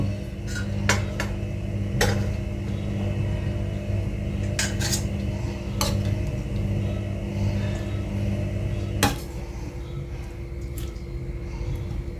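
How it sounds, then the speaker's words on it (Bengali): A kadai lid is lifted at the end of cooking chickpea ghugni, and metal pots and utensils give sharp clinks and clatters scattered over a steady low hum, close and moderately loud with no talking. "কড়াইয়ের ঢাকনা খুলছি।"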